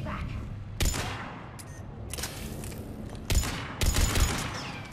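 Gunfire in Mass Effect 3 comes as several sharp, loud bursts of shots, some clustered in quick succession, separated by quieter stretches of low background rumble.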